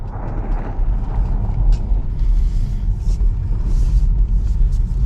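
A Tesla Model 3 accelerating hard at full throttle through snow, a loud, steady low rumble and road roar that holds for several seconds with faint creaks on top.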